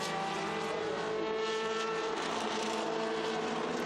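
Historic race cars, including a white Lola BMW, roar past continuously at Estoril, a dense, steady engine drone at close to moderate distance with no break or talk.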